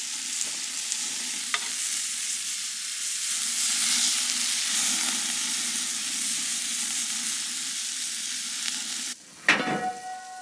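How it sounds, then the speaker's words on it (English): Chicken sizzles steadily on a hot OZ PIG grill, a constant loud hiss with a few faint clicks, ending in a brief clatter of movement. "while that's sizzling away"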